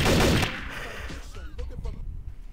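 Gunfire in Trouble In Terrorist Town, with a loud close blast opening the moment and then a few fainter shots and rattles trailing off while a voice talks in the background.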